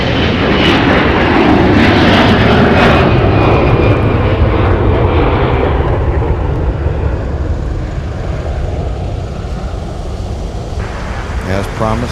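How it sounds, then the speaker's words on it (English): A Delta Airlines Airbus A321 departs for Phoenix, its jet engines roaring loud and close before the thrust fades over the last seconds, with voices faintly under the noise. "that was the departure to Phoenix. Delta Airlines flight 2274, a 321 Airbus"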